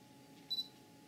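Camera autofocus in one-shot mode gives a faint, quick double beep confirming focus, heard alone against a quiet room hiss.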